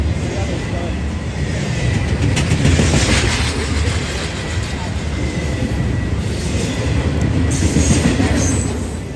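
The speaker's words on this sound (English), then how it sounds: "The Gilliam County landfill receives heavy intermodal trains like this one on nearly a daily basis." A heavy Union Pacific intermodal freight train hauls trash to the Gilliam County landfill on the Condon Branch, producing a continuous rolling rumble with clattering wheels and faint squeals that stays steady throughout.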